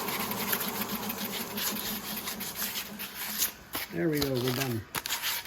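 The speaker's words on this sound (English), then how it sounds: "Just a little sand on the back side." Sandpaper rubbing on the back side of a wooden flagpole in quick, steady back-and-forth strokes, close by, with a voice speaking briefly near the end.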